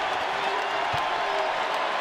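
A sold-out home crowd roars at a Florida versus Tennessee college basketball game in a Knoxville arena in 2025, a dense, continuous wall of cheering with a few faint low knocks beneath it.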